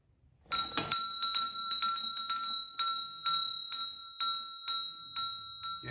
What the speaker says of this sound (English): To the bell in the other hallway.